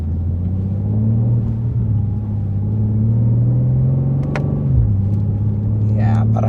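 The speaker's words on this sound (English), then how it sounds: "S58 is such a serious powerhouse. Like compared to the S55, like they really worked on this straight six." 2024 BMW M2 with the S58 straight-six engine rumbling steadily while driving, a loud low drone that dips briefly near the end as if shifting, with people talking over it.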